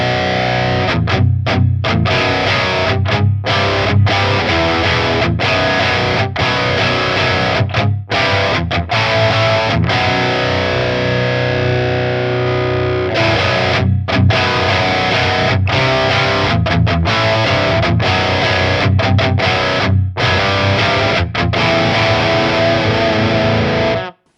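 Heavy distorted electric guitar riffing through a Line 6 Helix RevGen Purple preset, loud and continuous with choppy palm-muted stops and brief gaps, played alone with no talking.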